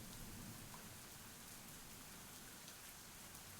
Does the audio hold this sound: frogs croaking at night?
no